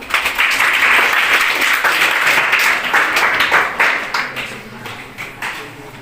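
A crowd applauds at a government high school event in Manikyapur, Ganjam, with dense, loud clapping that holds steady for several seconds and then gradually thins out and fades.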